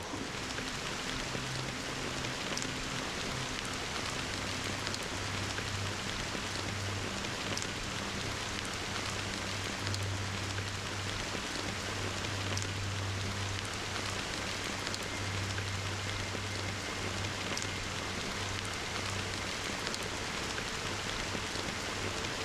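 Rain falling in Honkai Star Rail's Penacony, a steady soft patter on surfaces with a low background hum, continuous and fairly faint.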